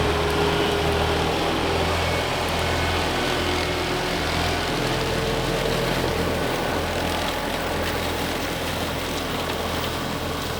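A lawn mower cuts grass on a Missouri farm, its engine giving off a steady, loud, low drone with a constant hum throughout and no talking.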